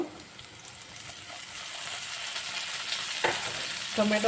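Tomato frying in an oil tempering for sabudana upma, a steady close sizzle with stirring throughout and a brief sharper scrape of the spoon near the end.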